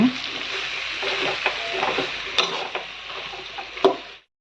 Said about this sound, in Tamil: இன்னொரு வாட்டி நல்லா இப்படி கலந்து விடுங்க